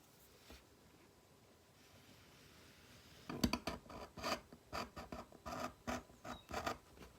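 Leather being cut for coasters in a leather craft studio: after a quiet stretch, a run of close, crisp scraping cuts and rasps in uneven bursts, fairly loud against a faint background.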